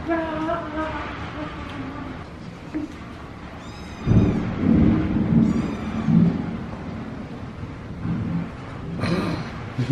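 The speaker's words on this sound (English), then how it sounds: "Look at this hail coming down." Heavy hailstorm noise in Texas with a dense roar of hail pounding down, rumbling low underneath, and a voice calling out now and then.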